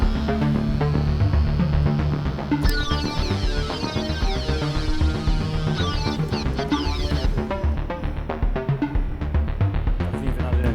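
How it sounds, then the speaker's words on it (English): A Korg Wavestate wave sequence on layer D plays a busy, rhythmic pattern of rapid stepping tones and percussive hits, with a bright sweeping layer entering partway, loud and continuous with no voices. "on layer D here we've got a wave sequence ready to go"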